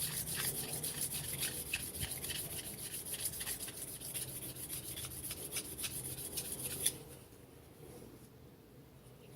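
A metal blade edge is polished with a fine diamond sharpener: quiet, steady rhythmic rasping strokes for about seven seconds, close by, then the scraping stops and a faint room hum remains.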